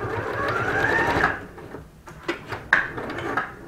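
A sewing machine stitches an upcycled t-shirt into a draped heart cushion, running in a close, steady whir before stopping, followed by a few sharp mechanical clicks and clacks as the fabric is handled.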